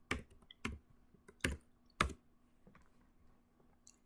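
Fingers type on a computer keyboard while searching in the Windows Microsoft Store: about four distinct, close keystrokes spaced half a second apart, followed by a few fainter taps in a quiet room, with no talking.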